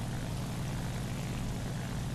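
Steady, dense drone of a propeller aircraft engine flying overhead in the War Thunder combat game, a constant low roar with no pauses and no talking over it.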